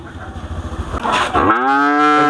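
Holstein Friesian heifer calves at a cattle farm: after a low rustling start, one loud, close, drawn-out moo fills the second half, alone with no talk.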